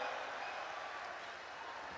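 An audience applauds at a Hindi comedy poetry event, a continuous, even wash of clapping that is fairly faint and far off.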